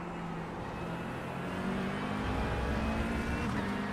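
LMP2 prototype race cars in iRacing's IMSA endurance race at Road America pass by, their steady engine drone rising and growing louder partway through, continuous with no talk.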